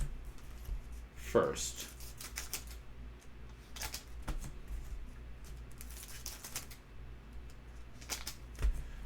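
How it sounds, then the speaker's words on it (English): Scissors snip open trading card packs from Walmart retail blaster boxes, a handful of crisp metallic cuts and crinkling foil wrapper sounds spaced irregularly, close by, with someone talking over parts of it. "I'm going to snip and snip all the packs"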